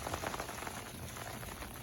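Heavy rainwater splashing and pouring from a detached gutter downspout onto the ground, a faint, continuous gushing patter with no voices.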